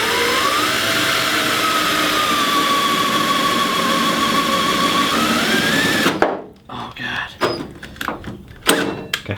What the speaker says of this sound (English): It also makes you feel less bad about putting a drill to your freshly painted fender.